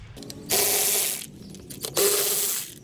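Power tool loosening Torx T40 bolts on a 2023 BMW S1000RR motorcycle, two loud, sustained whirring bursts close by, separated by a short pause with small clicks.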